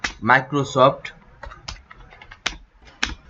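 Computer keys clatter in a few quick, sharp taps as text goes into a PowerPoint slide, scattered clicks following a stretch of close speech.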